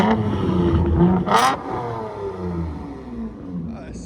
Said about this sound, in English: Fully straight piped Avalon.